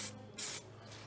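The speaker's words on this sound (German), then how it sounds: "Dann sprühen wir den erstmal hier so" Zinc spray hissing from an aerosol can onto a metal rear-bumper bracket for a Honda Accord 2.2 i-ES, in two short close bursts with a brief gap between them.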